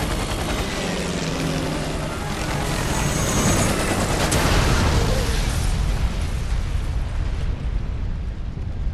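A grenade blast in the Resident Evil 6 video game: a loud, broad rumbling burst that swells through the middle and decays slowly into a fading roar, with no voices over it.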